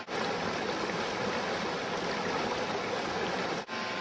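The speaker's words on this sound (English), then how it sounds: "and rinsed in distilled water" Electrode plates for an HHO generator are rinsed in distilled water, giving a continuous close splashing and running-water rush that stops abruptly near the end.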